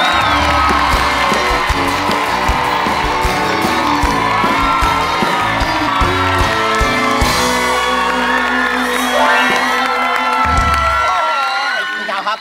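Studio audience on a Thai variety show cheers, whoops and shouts loudly and continuously to welcome two guests, a dense crowd roar with music or effects underneath, lasting throughout.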